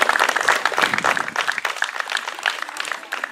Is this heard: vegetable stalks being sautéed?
no